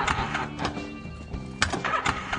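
A motorcycle engine sputters and stalls as it repeatedly fails to start, giving uneven mechanical bursts and rattles that rise and fall, fairly loud and close.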